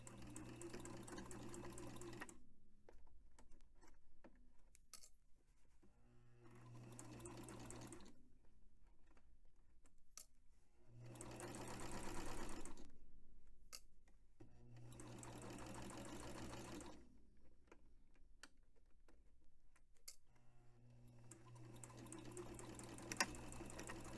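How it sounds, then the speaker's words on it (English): A sewing machine stitches a shirt front to its shoulder yokes in quiet bursts of steady motor hum, several runs separated by pauses, with a faint rattle between them. "I pinned the shirt front to the yokes, the yoke at the shoulder, and I'm going to sew those on."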